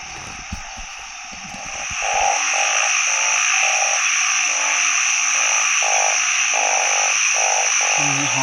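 Frogs croak at night in a rhythmic series of loud, close pulsing calls, about a dozen regular croaks over steady insect-like hiss, during a nighttime frog hunt in the countryside.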